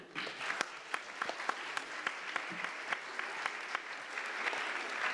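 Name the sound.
audience applause for a speaker being introduced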